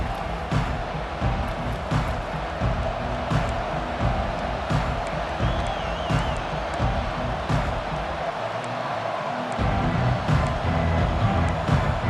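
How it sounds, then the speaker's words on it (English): Stadium crowd in the video game EA Sports College Football 25 at a Notre Dame game, making a steady, distant roar that holds for the whole stretch with slight swells and no break. "This crowd bringing an ear-splitting welcome to their visitors."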